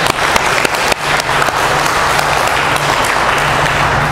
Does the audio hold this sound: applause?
yes